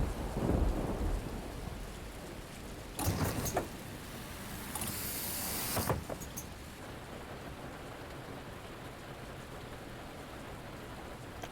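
Thunderstorm in The Bus driving game: steady rain with a deep rumble of thunder at the start, then sharp crackling thunder bursts in the middle before the rain settles back to a constant hiss.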